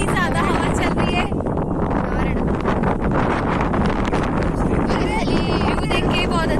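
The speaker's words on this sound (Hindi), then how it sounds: "इतनी ज्यादा हवा चल रही है।" Strong wind buffets the microphone on a hilltop fort at Sinhgad in Maharashtra, a loud, continuous roar and rumble that never lets up.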